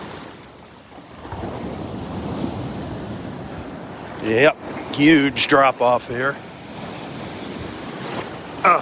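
Ocean waves wash and surge at Delnor-Wiggins beach, a steady close roar with wind noise on the microphone. Someone speaks briefly over the water partway through.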